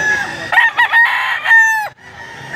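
A rooster crows loudly and close by, a long strained call that rises and then drops off abruptly, with clucking and background noise around it.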